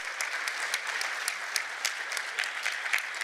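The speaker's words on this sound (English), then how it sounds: "So big round of applause." A room of attendees at the Women in Agile 2022 conference gives its mentors a round of applause, with continuous, even clapping from many hands at moderate loudness.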